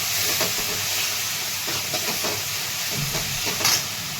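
Onion paste sautés in hot oil in a pan for a village-style chicken kala rassa, giving a steady, fairly loud sizzling hiss with a few faint clinks.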